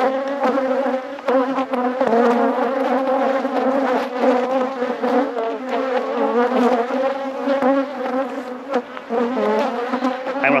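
A dense swarm of honeybees hums loudly and close around stacked hive supers, a rich wavering drone that fills the whole stretch with no voices.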